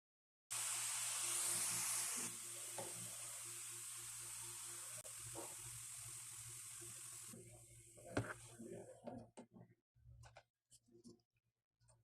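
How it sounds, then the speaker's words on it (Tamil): Sev dough made from rice flour and besan goes straight into hot oil. It gives a strong, even sizzle and hiss for several seconds, then cuts out, leaving scattered small clicks and taps. "இப்போது டைரெக்டாக நான் எண்ணெயில் போட்டுக்கிறேன்."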